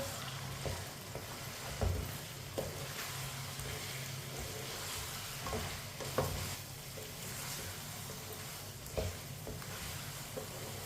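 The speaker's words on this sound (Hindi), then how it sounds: "अच्छी तरह मिक्स कर लेंगे।" A spoon stirs a chicken and rice mixture in a pot over the stove, with soft continuous sizzling and a few scraping knocks at intervals. The sound is fairly quiet and steady, and no one speaks.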